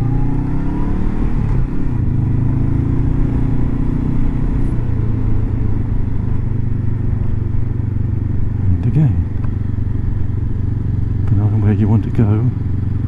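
Honda CB500X motorcycle riding a Swiss mountain pass, its steady engine drone loud and continuous with wind rush, brief rev swells near the end, and a rider's voice talking over it.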